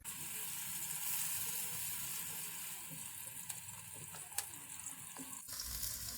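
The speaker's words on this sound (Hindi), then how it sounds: "प्याज को हम हल्का सा फ्राई कर लेंगे।" Finely chopped onion frying in ghee, a steady soft sizzle that holds evenly throughout, with faint clinks and stirring noises.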